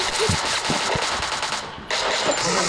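Automatic gunfire in the mobile battle royale game Free Fire, rapid bursts of machine-gun shots rattling continuously and loudly throughout, with a brief dip before the firing resumes.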